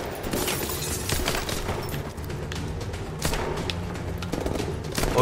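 Gunfire in the video game Call of Duty Advanced Warfare, dense rapid shots and thuds forming a continuous, busy battle din.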